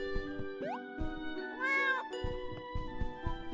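A cat in the video game Escape From Ever After meows when petted, several clear, close meows over soft game music, with no talking.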